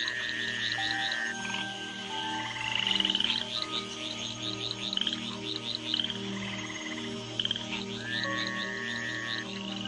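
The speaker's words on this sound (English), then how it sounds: "In the wake of the rains, the tree frogs gather for bouts of communal coupling." A dense chorus of tree frogs croaking together after the rains, pulsing calls layered over a steady rhythmic drone of other frogs and insects, loud and continuous with no voices.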